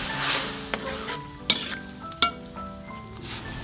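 Vegetable lodeh with chayote and fiber creme being stirred in a pan, a soft sizzle under scraping spoon strokes with two sharp clinks against the pan midway.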